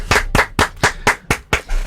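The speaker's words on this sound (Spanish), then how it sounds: "Hermoso, Fede, vamos a aplaudir." Seven sharp hand claps in a steady, evenly spaced rhythm, close and loud, with no talking in between.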